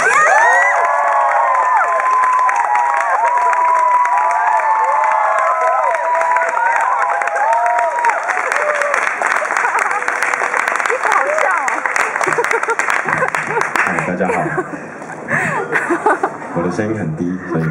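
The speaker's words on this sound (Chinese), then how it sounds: "那我们用最热烈的掌声欢迎" Crowd at a live music show in Ximen's Riverside live house cheers, whoops and applauds to welcome an indie band on stage, a loud, dense wall of shouts and clapping that thins toward the end.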